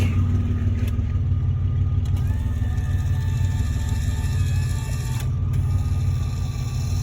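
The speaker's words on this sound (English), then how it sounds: "let's try the steering. And the brake." On a full-size RC car, the steering and brake are tested over a steady mechanical hum and low engine drone. Brief whirring actuator tones and short clicks rise and stop, heard close.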